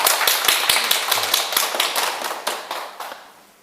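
A small audience claps at the close of a Buddhist monk's talk at a temple, starting with a few sharp separate claps that build into loose applause, then thin out and fade.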